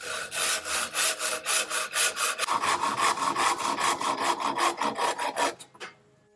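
A hand saw cutting through a wooden stick with steady, even back-and-forth strokes, close and loud, ending as the cut finishes and the sound drops away.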